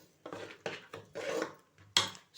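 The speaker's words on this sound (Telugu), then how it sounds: "ఇప్పుడు ఈ పిండిని కొంచెం కొంచెంగా వేసుకుంటూ కలుపుకోవాలి." A spoon scrapes and stirs as flour for crispy ariselu is worked into a pot, making several short, separate scraping strokes close by with brief pauses between them.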